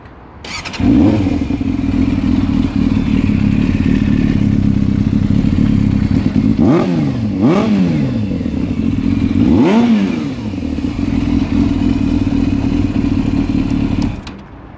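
A Yamaha YZF 600 Thundercat motorcycle with a Micron exhaust idles loudly and steadily up close, then is blipped through two sharp revs that rise and fall, settling back to a rumbling idle before cutting off.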